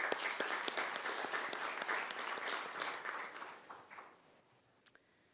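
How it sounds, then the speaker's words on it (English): Applause at a city council meeting: a room of people clapping steadily, moderately loud, then thinning out and dying away, with a last isolated clap or two near the end. "we'll still give her a round of applause"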